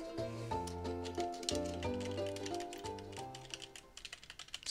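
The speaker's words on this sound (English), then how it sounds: "Sorry about typing." Rapid keyboard typing clicks along, soft and close, under a steady musical melody from a Final Fantasy IX game, with the taps growing more prominent toward the end.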